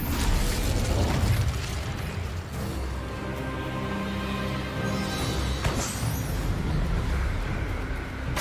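Incendio fire spell cast in Hogwarts Legacy, a fantasy action game: a loud whooshing burst of flame with a booming roar, then a tonal magical hum and a second flaring whoosh, close and without talk.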